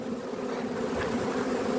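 A swarm of honey bees buzzing steadily up close at a beehive, a dense droning hum that holds without pause for the whole moment.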